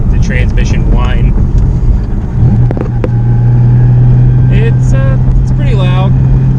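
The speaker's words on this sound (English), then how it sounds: "You can really hear the transmission whine." Inside a 500 HP turbo V6 Mustang in third gear, a steady transmission whine holds above the loud engine and road rumble, with someone talking over it.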